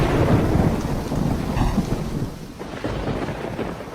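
Thunder rumbles loudly over heavy monsoon rain in an animated cartoon scene, a dense steady downpour with a rolling crack of thunder partway through and no voices.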